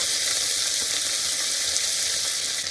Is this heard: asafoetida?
yes